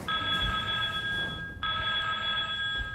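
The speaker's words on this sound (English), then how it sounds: "Brooke, will you tell Leaf he has a phone call, please?" Telephone ringing on stage during a community college production of a musical comedy, two electronic rings separated by a short pause, clear and fairly loud in the hall with faint room noise.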